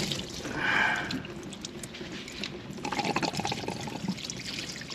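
Diesel fuel pours and trickles out of a Duramax fuel filter housing on a 2022 6.6 L Chevy 2500, a steady close splashing stream with dripping that picks up slightly near the end.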